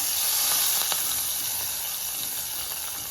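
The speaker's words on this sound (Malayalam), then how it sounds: "നമുക്ക് നമ്മുടെ താളിപ്പ് ഇതിനകത്തോട്ട് ഒഴിച്ചു കൊടുക്കാം" A hot tempering of fried onions poured into a Kerala-style cucumber curry gives a close, loud burst of sizzling that slowly fades and keeps up a steady hiss.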